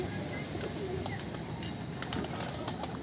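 Pet pigeons of a pure breed coo softly in a loft in Delhi, low faint murmuring calls against quiet background noise, with a few brief rustles and a distant chirp.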